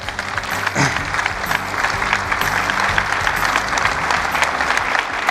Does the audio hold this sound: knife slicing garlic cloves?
no